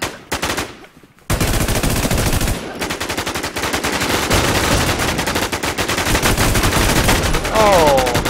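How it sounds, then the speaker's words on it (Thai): Rapid automatic gunfire from a video game, the player being shot at from outside, crackling loudly and almost continuously through most of the stretch after a brief quiet gap, with faint talk mixed in. "โอ้โดนลุมยิงจากข้างนอกเลยฮะ"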